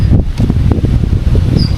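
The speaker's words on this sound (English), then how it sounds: "Oh wow, it's windy." Gusty wind buffeting outdoors at Bossung Lake in Elwood, Nebraska, a loud low rumble with rustling, and a faint bird chirp near the end.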